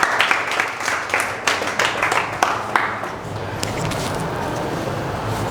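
Students at a Republic Day quiz program clap for a classmate, a dense burst of many hands that fades after about three seconds into a softer crowd murmur.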